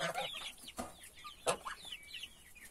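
Naked neck chickens clucking and murmuring close by, a mix of short clucks and a few louder calls, with no talking.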